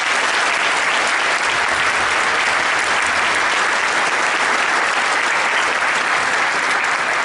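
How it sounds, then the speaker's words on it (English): Steady, loud applause from an audience honoring middle school honor band students at a concert, a dense wash of clapping that holds unbroken for the full stretch. "Give the students one more round of applause"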